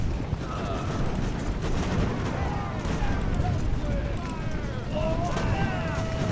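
Musket volleys crackle and boom across a battlefield in the Ultimate Admiral Age of Sail game set in the American Revolution, with Continental troops firing Long Land muskets at Marines, a dense continuous rumble of shots beneath someone talking.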